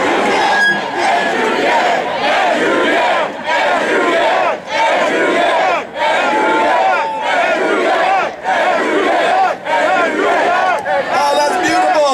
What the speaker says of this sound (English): I can't even go to sleep without a crowd of thousands chanting my name anymore.